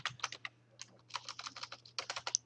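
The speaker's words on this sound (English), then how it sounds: "Let's type in" Fast, steady clatter of keys on a computer keyboard, close and fairly quiet, in quick bursts with a short pause in the middle and no talking.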